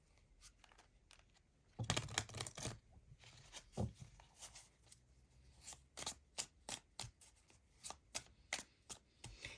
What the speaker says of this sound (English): let's get some clarifying cards on here